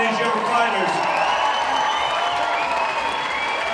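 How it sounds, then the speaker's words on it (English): A crowd at a boxing fight night applauds two young boxers, with sustained clapping and murmuring cheers beneath a ring announcer speaking over a loudspeaker. "How about a round of applause for both of these young fighters?"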